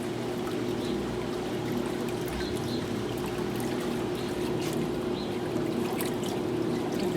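Water pulled through the lint filter of a washing machine, opened up with its front panel off while being unwinterized, gives a steady, continuous watery rush and hum that holds at an even level throughout.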